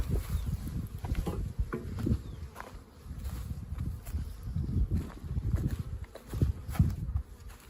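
Defensive newly arrived bees buzz around a hive at an apiary, a fluctuating low hum with passing buzzes rising and falling near the listener, mixed with rustling and handling noises.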